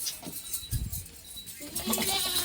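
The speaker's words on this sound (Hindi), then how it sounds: "ये काफ़ी सारी बकरियाँ क्रॉस हो गई है ना ब्रीडर से" Teddy and Barbari breed goats bleating in a livestock pen, a few short bleats mixed with faint background voices.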